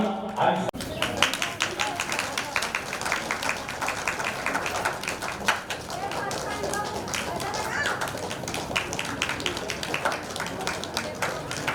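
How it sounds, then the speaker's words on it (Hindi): An audience claps continuously to welcome guests at the Bhimsen Ekadashi village fair in Karagula, a steady, busy patter of many hands with children's voices and crowd noise mixed in. "आप सब बिल्कुल स्वागत की इस बेला पर ताली बजते रहना चाहिए।"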